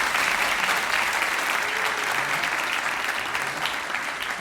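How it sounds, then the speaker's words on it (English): An audience at a London competition show applauds the finalists, a full, even round of clapping from a sizeable crowd that holds steady for several seconds. "Guys, a massive round of applause for these guys."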